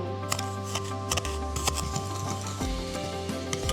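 Sugars being stirred together in a bowl while baking, a steady close scraping and rubbing with short clinks of the utensil against the bowl, no talking.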